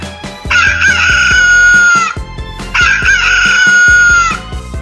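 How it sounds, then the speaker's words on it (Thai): A rooster crows loudly twice, each crow drawn out, over a steady background of soft instrumental music. "เสียงของไก่"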